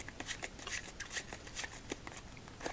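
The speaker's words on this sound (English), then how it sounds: "Let's give it one more shuffle" Playing cards shuffled by hand at a solitaire table, a close, soft riffle of rapid rhythmic flutters and snaps repeating over a few seconds with no voices.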